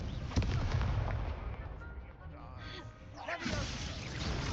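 A Confringo fire spell bursts in Hogwarts Legacy with a sharp crack, then rumbling fiery blasts and a second surge. Explosive layers are dense, with some speech-like game sound mixed in.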